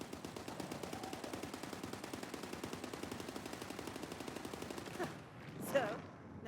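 Rapid automatic gunfire from the video game The First Descendant, in a boss battle against Gluttony, rattles in a fast unbroken burst for about five seconds, then stops, leaving faint game effects and a brief electronic whoosh.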